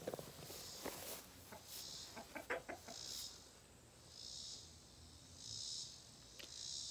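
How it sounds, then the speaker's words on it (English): A rooster at a home yard gives a few faint clucks early on, set against a constant chorus of crickets in a quiet outdoor scene. "It's a very serious rooster."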